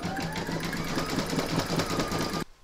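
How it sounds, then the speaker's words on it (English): An embroidery sewing machine stitches the final outline round on an in-the-hoop stacked pumpkin, a steady fast mechanical whirr with rhythmic needle thumps at close range, stopping abruptly near the end. "then you're going to stitch the last round of stitching,"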